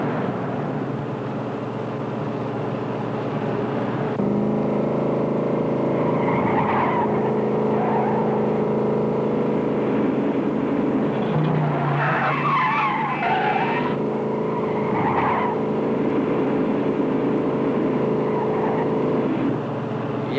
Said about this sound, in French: Il y a une voiture qui nous suit.